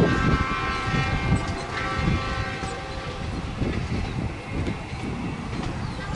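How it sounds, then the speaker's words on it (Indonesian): A ballast train rumbles steadily past Cimekar station in Bandung, its clattering wheels loud and close, with a sustained horn-like tone ringing over the passing cars. "Dari arah barat di jalur 2 sedang berjalan kereta Malabar"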